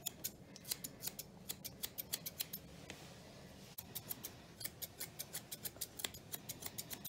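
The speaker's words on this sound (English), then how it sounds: "I'm just taking his flyaways off here, blending it in as I go with my thinning scissors." Thinning scissors trimming the hair on an English Springer Spaniel's head during a show groom, a quick run of sharp, close snips in a steady rhythm with one short pause partway through.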